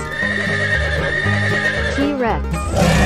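A horse whinnies in a loud, drawn-out neigh over a bouncy musical background in a cartoon animal sequence, with hoof clip-clops mixed in.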